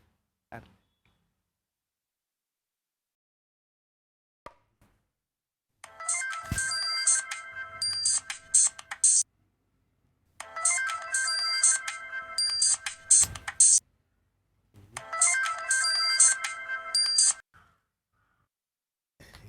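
A mobile phone ringtone plays in three separate bursts of about three seconds each, separated by short silences, fairly clear and with no talking over it.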